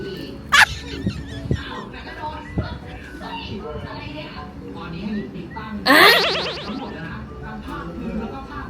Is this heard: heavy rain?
no